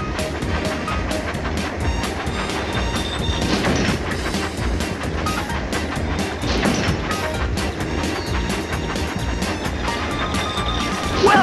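A toy train engine runs along a crazy coaster mountain track in a Thomas & Friends game, a loud, dense stream of rhythmic rattling clicks and clatter, sustained throughout with busy game sounds.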